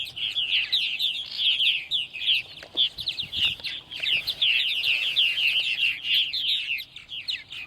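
A flock of purple martins chirps and twitters continuously in bright, gurgling bursts, fairly close, at their nest houses in the evening on Long Island, New York, with a few soft thumps underneath and no speech.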